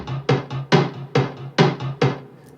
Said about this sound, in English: We've got the bright toms that are just continuing in this section